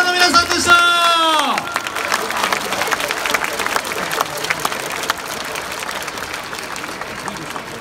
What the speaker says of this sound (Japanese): 大きな拍手を送りください。